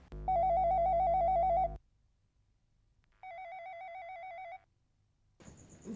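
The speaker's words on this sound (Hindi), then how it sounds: "फोन उठाइए ना।" A telephone rings unanswered in two long electronic trilling bursts separated by silence, loud and close, in an otherwise quiet room.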